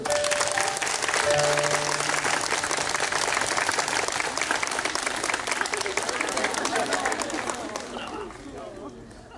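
Dense, sustained applause from a crowd honoring a mother and family at a Catholic anniversary broadcast talk concert, steady and loud for most of the stretch before gradually thinning toward the end.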